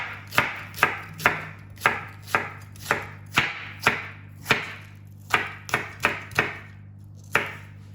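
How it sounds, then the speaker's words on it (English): A knife slices thin rounds of onion on a board for a Spanish tortilla, a close, quiet run of crisp evenly spaced cuts, each a sharp tap against the wood, with a brief pause before the final strokes. "Now we're going to slice cut thin slices of the onion."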